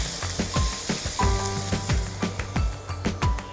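Egg masala with tomatoes and a little salt being stirred in a pan, with a steady sizzle of frying under repeated scraping and clinking strokes of a spoon against the pan.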